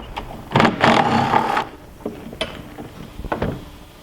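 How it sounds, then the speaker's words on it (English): Screws being backed out of the glove box on a two-seat Can-Am side-by-side, heard as a few close mechanical ratcheting and clicking bursts with short pauses in between, with no talking. "Remove the screws."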